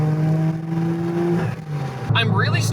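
700HP Porsche 996 Turbo with a manual gearbox pulling in third gear, a loud near engine note climbing in pitch, then a sharp shift and renewed rise, with a person talking over it.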